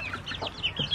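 Chickens clucking nearby, several short overlapping clucks and chirpy calls in quick succession, moderately loud with no talking.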